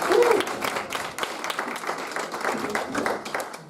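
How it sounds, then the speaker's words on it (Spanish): Applause from an audience for a live band at a church gathering, a dense burst of many hands clapping that fades slightly over a few seconds and is heard close and loud, with no talk. "otra vez un fuerte aplauso para ellos porque han hecho muy bien"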